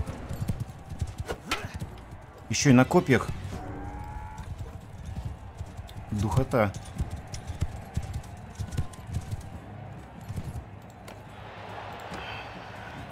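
Horse hooves clip-clop steadily during a mounted tournament in Mount & Blade II: Bannerlord, a continuous trotting rhythm under crowd and combat noise, with someone talking over it.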